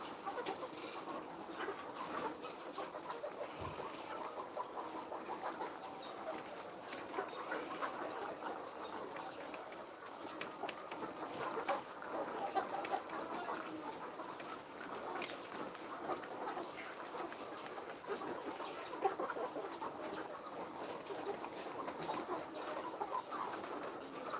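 Chickens clucking and fowl calling continuously at a moderate distance, a busy flock chorus with faint background voices.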